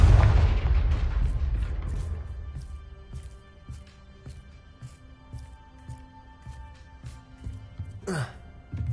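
A Confringo blast goes off in a Harry Potter game. It opens with a loud, booming explosion that decays into a low rumble, followed by scattered faint clicks and a short whooshing burst near the end.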